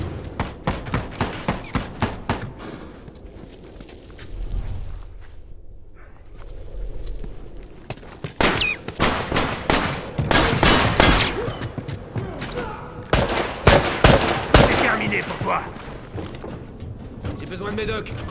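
Gunfire from a 9mm pistol, a hunting rifle and a double-barrel shotgun in The Last of Us, fired as rapid sharp shots, then a short lull, then more heavy blasts and thuds, with voices talking between them.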